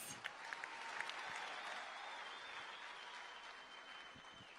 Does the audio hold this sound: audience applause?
yes